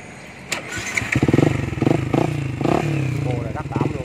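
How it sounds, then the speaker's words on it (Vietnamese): A 2016 Yamaha FZ150i motorcycle in stock condition idles close by with a throbbing, steady exhaust pulse. Someone talks over the engine in short bursts. "Tiếng máy nổ rất là êm."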